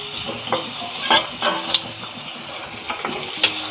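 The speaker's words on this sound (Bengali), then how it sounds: "এখন আমি এর মধ্যে দিয়ে দিব পেঁয়াজ কুচি, তো ভালোভাবে ভেজে নিব।" Chopped onions fry in oil with garam masala, giving a steady close-up sizzle broken by several sharp scrapes and clacks of a spatula stirring the pan, with no talking.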